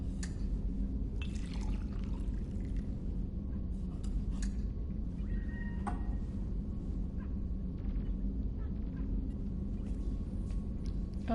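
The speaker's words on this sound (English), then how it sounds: "You have to actually pour yourself a drink." Liquid pouring into a glass as the player character fixes a drink in Mass Effect 2, a steady trickle with small drips and clinks over a low ambient room rumble, no talking.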